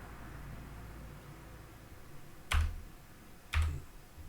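Computer keyboard in a database tutorial at a command prompt, two distinct key presses, likely the Enter key, sounding as sharp close clicks about a second apart over faint background hiss.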